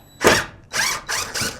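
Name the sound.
power drill trigger being squeezed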